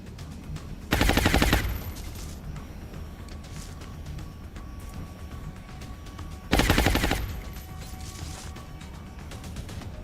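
Two loud, rapid bursts of automatic gunfire from the game XCOM, each about a second long and separated by several seconds of quiet mechanical ambience and a faint tone.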